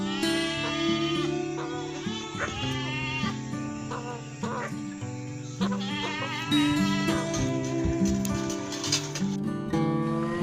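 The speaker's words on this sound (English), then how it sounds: "This is goat." Goat bleats sound in a dense, loud mix, with repeated wavering calls layered over steady harmonic background tones across the whole stretch.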